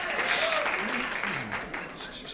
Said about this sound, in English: You're all applauding.